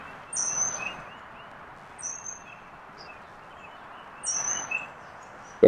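A bird calls close by near a fishing spot, sharp high chirps in three separate bursts over a steady outdoor hiss.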